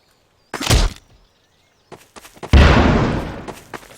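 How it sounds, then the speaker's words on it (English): Small bomb explosions from the gbombs addon in Garry's Mod: a short loud blast, a few faint pops, then a larger blast with a long fading rumble. "Small explosions."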